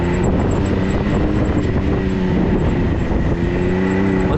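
A Can-Am Maverick X3 RS buggy drives on a dirt turn track, its engine a loud, steady droning roar with a constant tonal whine, heard close with wind buffeting throughout.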